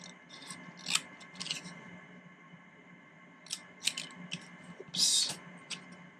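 Scissors cut paper scraps for a Halloween treat box, making close, quiet crisp snips in small clusters with pauses between them over a soft background hum.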